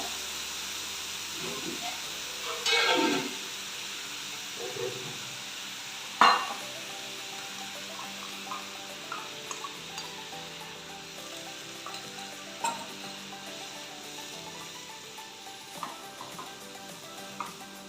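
Spices fry and sizzle in a pan with a splash of water added to keep them from burning, a steady soft hiss with a few sharper spatters and stirring knocks.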